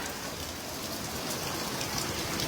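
Floodwater after a typhoon in Luzon rushes down a street in a steady, loud broadband roar, a continuous wash of churning water without pause throughout.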